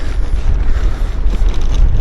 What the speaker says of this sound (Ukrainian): подув в обличчя вітер